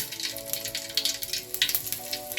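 Mustard seeds and urad dal spluttering in hot oil in a smoking steel pan, a steady crackle with quick irregular pops throughout, close and moderately loud with no talking.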